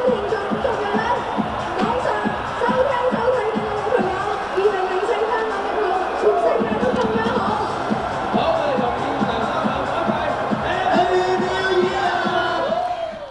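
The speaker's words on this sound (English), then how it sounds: "crowds have gathered here since early in the evening" A crowd gathered for an evening event, loud rhythmic chanting and cheering voices with steady pulsing beats through the whole stretch.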